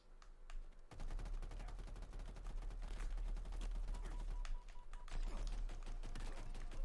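Rapid pistol gunfire from a shooting video game played on a Manba One controller, a dense run of sharp repeated shots that keeps going for most of the clip, with a brief break near the end before the firing picks up again.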